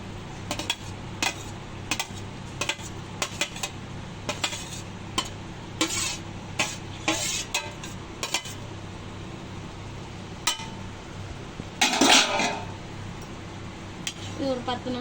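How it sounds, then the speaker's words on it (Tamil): Fried paneer going into simmering butter masala gravy, with a spoon scraping and clinking against the pan in a steady series of stirring strokes, close and fairly quiet over a low background hum. "இப்போ நம்ம ஃப்ரை பண்ணி வச்சிருந்த பன்னீரை இதில் போட்டுடலாம்."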